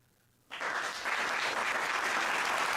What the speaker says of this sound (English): Let me get the applause for Shanika.